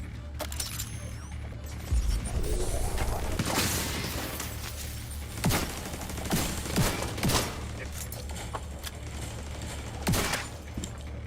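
Turret gunfire in a shooter video game crackles in bursts of rapid shots, with sharp impacts and mechanical clatter over a constant background hum.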